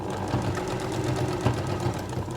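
A sewing machine stitches quilt binding down to the end of a seam, its needle chattering in a fast, even mechanical rhythm, close and steady, with no talk.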